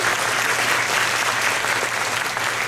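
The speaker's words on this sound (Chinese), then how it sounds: "同时再给她一次热烈的掌声" Steady, dense applause from an audience at an opening ceremony, loud and continuous with no voices over it.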